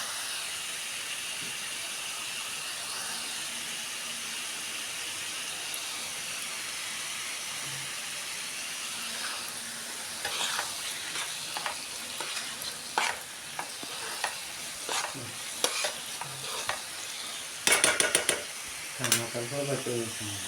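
Tomatoes frying in a hot pan give a steady sizzle and hiss, then a run of close scraping stirs grows louder and more frequent toward the end.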